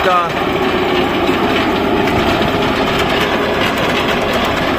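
A tractor with a pump-driven mower runs on a meadow near a house, its loud engine drone steady and close with a fast rattling clatter throughout; a voice speaks under it.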